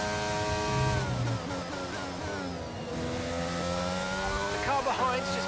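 F1 car engine from the game F1 22 at the Spain race, high-pitched whining revs climbing and dropping through gear changes, loud and continuous, with a voice speaking underneath.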